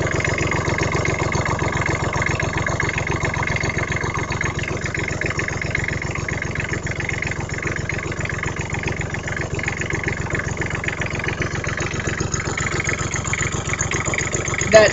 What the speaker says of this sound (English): This is a cold start.